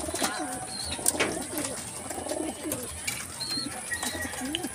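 Racing pigeons packed tightly together in a loft, with overlapping soft cooing from many birds, scattered chirps and occasional brief wing flutters, steady and close throughout.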